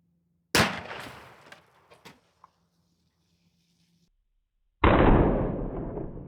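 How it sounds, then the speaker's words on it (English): A Federal Shorty 1oz shotgun slug is fired outdoors into water jugs: a sharp, loud blast with a short decaying tail, a few small knocks, silence, then a second heavy burst that fades slowly. "let's line up and shoot these jugs and see what kind of energy and penetration we can get"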